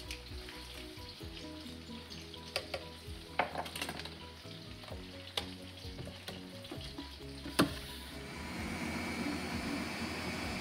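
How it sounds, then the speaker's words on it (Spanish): Onion and garlic fry in a pan with a continuous soft sizzle, broken by occasional sharp clinks and scrapes of stirring, growing a little louder toward the end; no voices. "Ya vamos a poner a freír la cebolla con el ajo"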